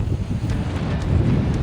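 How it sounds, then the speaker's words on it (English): Strong wind buffets the microphone on a crowded beach in Corsica, a continuous low roaring rumble with faint surf beneath, steady throughout. "it's windy here too"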